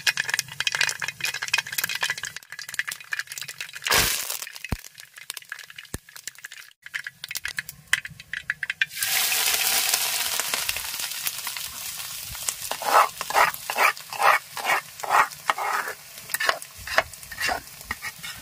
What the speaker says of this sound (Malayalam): നമ്മൾ എണ്ണ ഒഴിച്ചു ചൂടായിട്ട് ഇനി കടുക് ഇടാൻ പോവുകയാണ്